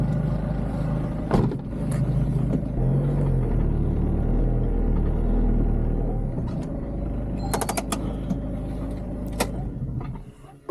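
A camper van reverses slowly onto hard ground at a campsite on the Isle of Mull, a steady low engine rumble near the microphone with a few knocks and mechanical clicks before it settles.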